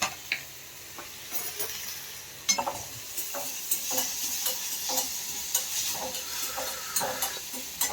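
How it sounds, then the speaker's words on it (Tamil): Tomatoes sizzle and saute in a pan in a home kitchen while a utensil stirs them with repeated scraping taps against the metal, steady close frying hiss underneath. "நல்லா வதங்கட்டும்."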